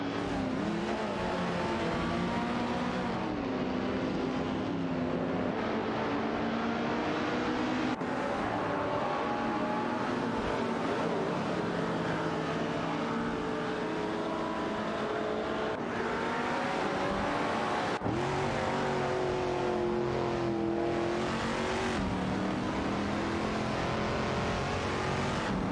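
Race cars in a video game, including a Porsche 904 and a Ferrari 250 GTO, roar through continuous engine noise. Rising and falling revs and gear changes layer over one another as several cars pass, with no voice heard.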